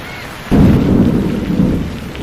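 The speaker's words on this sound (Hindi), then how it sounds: "अगली सुबह जब बारिश की पहली बूंद गिरती है" In a cartoon, steady rain starts abruptly and pours loudly, with a low rumbling roll of thunder running beneath the downpour.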